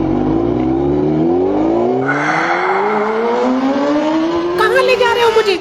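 A Honda motorbike engine revs hard and pulls away, its pitch rising steadily through the gears, loud and close, with more noise coming in near the end.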